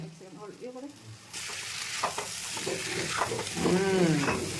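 Chicken dry fry sizzles loudly and steadily in a hot pan, with stirring scrapes and a faint voice in the background.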